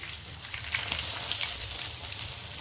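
Bread and potato breakfast snacks frying in hot oil in a pan give a steady, close crackling sizzle with dense popping that holds throughout, with no voices.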